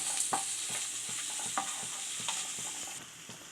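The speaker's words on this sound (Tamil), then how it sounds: "ஒரு கொத்து கருவேப்பிலை சேர்த்துக்கலாம். இதையும் சேர்த்து நல்லா வதக்கிக்கலாம்." Curry leaves sizzling and being stirred in a hot pan for cabbage egg poriyal, with steady frying hiss and repeated soft scraping strokes of a spoon, close and moderately loud with no talk.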